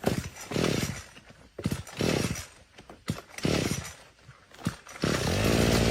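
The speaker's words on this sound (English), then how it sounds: "That's the best weed whacking I've seen done in 3 years." A gasoline weed whacker, running on fuel made from plastic waste, buzzes in repeated revving bursts that rise and fall, loud and close, ending in a sustained high whine.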